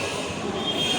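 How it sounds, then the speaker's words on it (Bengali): Train at a railway station, a steady broadband rumble with faint high squeal filling the whole second, no talking. "ওইটা হলো আমাদের ট্রেন।"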